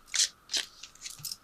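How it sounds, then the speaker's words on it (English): Chakra clarity cards shuffled by hand for a tarot reading, a few quick faint riffling bursts close by in an otherwise quiet moment. "Let me throw a couple of these clarity cards. They are chakra cards."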